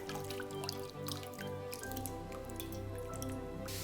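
Cooked, cooled rice noodles for bun cha draining in a colander: steady faint dripping and trickling water, with a low hum underneath.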